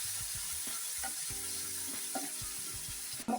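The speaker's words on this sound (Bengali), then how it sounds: "আর দিয়ে দিব এই যে পেঁয়াজ আর রসুনের পেস্টটা দিয়ে আমি এটাকে ভালো করে সাঁতলে নেব।" Onion and garlic paste with chili powder sautéing in a hot pan for a dried-fish curry, a steady close sizzle broken by light scraping and stirring taps, with no talking.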